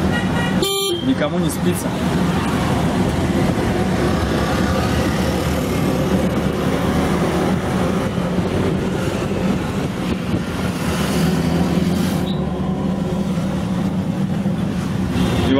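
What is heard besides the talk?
heavy road traffic with car horns in Goa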